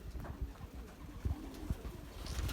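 Belgian racing pigeons coo softly and repeatedly in a loft, low murmuring calls layered over shuffling and faint background noise.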